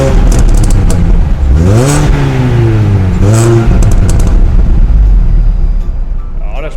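A Mini Cooper S R52 engine revs up and down twice in quick succession, its pitch sweeping up and back down each time, loud and close over a steady idle.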